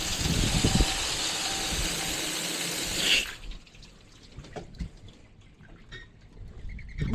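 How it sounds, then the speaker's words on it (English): Water gushes loudly from a newly installed outdoor spigot for about three seconds, then cuts off, leaving faint dripping and quiet ambient sounds. "I think you got the water on."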